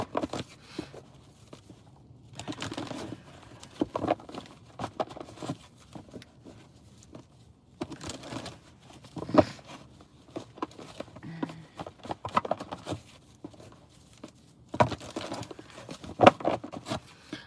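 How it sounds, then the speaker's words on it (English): Tarot cards shuffled by hand during a live reading, giving soft papery riffling and crinkling bursts in several separate rounds, close and moderately quiet. "I'm just going to shuffle a little bit right now."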